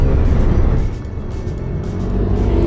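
A scooter engine revs up strongly nearby: a loud, steady motor drone with a smooth, linear rise, a brief dip, then building again, and no talk over it.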